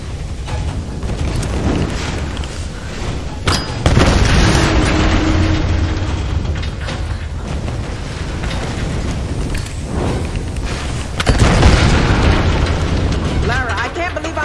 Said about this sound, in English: I can't believe I'm saying it, but we need a bigger explosion!